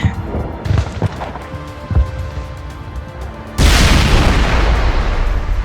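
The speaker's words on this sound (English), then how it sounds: "And a big boom." In the Mass Effect video game, a destroyed gas flare explodes with a loud boom that gives way to a sustained roaring rumble, preceded by scattered thumps and impacts.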